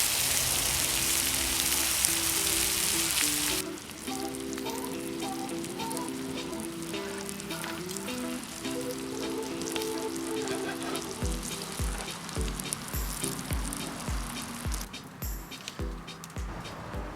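Potatoes and green beans coated in marinade sizzle in a stainless steel dish on an OFYR brasero, a steady close hiss with soft stirring knocks and scrapes later on.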